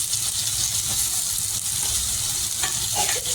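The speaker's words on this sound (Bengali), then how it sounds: "পেঁয়াজ কুচিগুলো হালকা করে ভেজে নেব।" Chopped onions fry in hot oil, a close, steady crackling sizzle with occasional stirring scrapes and no voices.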